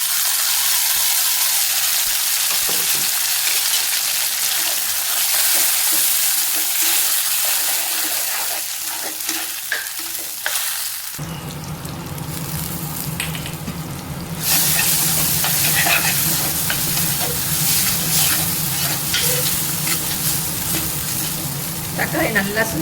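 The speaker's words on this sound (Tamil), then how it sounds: "தக்காளி நல்லா சுருங்கி வதங்கிடுச்சு." Ground tomato sautéing with garlic and onion for a kuzhambu, a continuous loud sizzle and hiss in a pan that thickens and deepens partway through, with occasional stirring noises.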